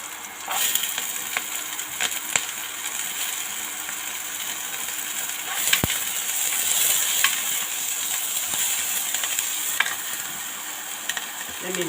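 Leftover rice sizzles and crackles steadily in a hot pan while being stirred, with scattered scraping clicks from the spatula over the continuous frying hiss.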